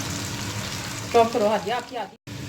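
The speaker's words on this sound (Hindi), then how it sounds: "प्याज को हमने इतना फ्राई करना है कि उसका कलर चेंज हो जाए।" Two medium onions fry in a pan for beef haleem, making a close, steady sizzle; a voice briefly rises over it midway before a short silent gap.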